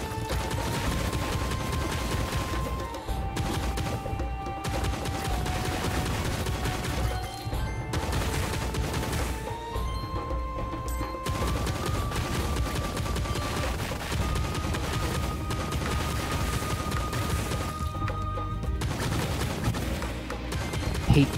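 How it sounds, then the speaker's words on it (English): Spread gun in the video game Monsters and Monocles fires as a dense, continuous barrage of overlapping gunshots over game music, loud and steady throughout with no pauses. "Get the spread gun. Spread some love and joy."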